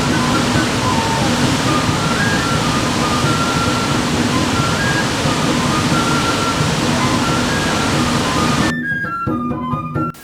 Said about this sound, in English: The gradual release of water from Goronyo Dam, which houses more than 900 million cubic meters of water,